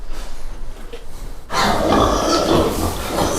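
Pigs grunting and squealing on a pig farm in Denmark, quiet scattered grunts at first, then a loud dense chorus of many piglets close by.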